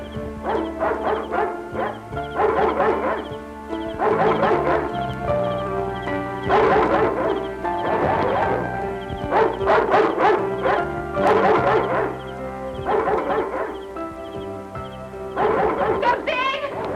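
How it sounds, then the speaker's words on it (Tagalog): A dog in a Tagalog drama film barks and yips repeatedly in close, urgent bursts, mixed with whimpering cries between the barks, continuing for over fifteen seconds. "Pakawalan mo ang aso!"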